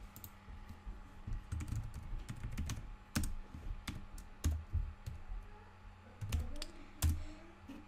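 Computer keyboard keys being typed in short irregular bursts of clicks, close and fairly quiet against a faint steady background hum, with no talking.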